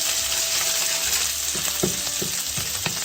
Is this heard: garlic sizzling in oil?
yes